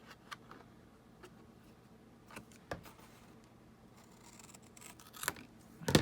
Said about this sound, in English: And we're gonna cut it